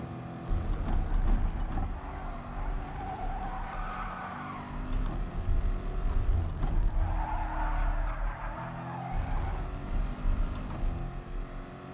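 Race car engine drone with skidding tire squeal while setting a fast lap in the video game Gran Turismo Sport, a steady loud roar swelling twice as the tires scrub through corners.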